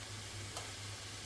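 Cooked rice added to a hot frying pan gives a steady, soft sizzle with a low hum beneath and one brief scrape partway through.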